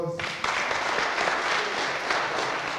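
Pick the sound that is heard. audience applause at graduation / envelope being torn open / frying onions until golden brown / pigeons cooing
audience applause at graduation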